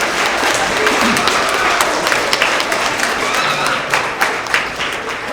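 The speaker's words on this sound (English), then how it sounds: "Big round of applause for everybody." A crowd applauds loudly and continuously, many hands clapping at once in a dense, sustained wash of sound.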